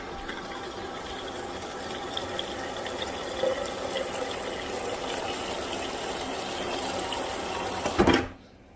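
Water poured into a blender or container for a green smoothie, a steady splashing trickle that builds slightly and stops with a brief clunk near the end.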